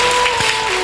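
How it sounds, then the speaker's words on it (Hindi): A church congregation applauding loudly during a Hindi-language worship service, a brief dense burst of clapping with a steady tone running underneath. "तालियां बजाओ यीशु के लिए जोर से।"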